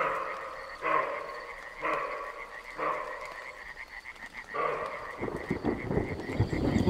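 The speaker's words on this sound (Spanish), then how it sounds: "Y de fondo los coros pulsantes de los sapos de la ermita de San Antón" Toads at the San Antón hermitage, a pulsing chorus of trilling calls in repeated bursts, moderately close, with rustling noise rising toward the end.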